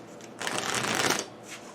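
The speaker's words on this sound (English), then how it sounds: "One last shuffle." Cards for the Pandemic Legacy board game get one quick riffle shuffle, a dense papery burst lasting under a second, close up, framed by faint quieter handling before and after.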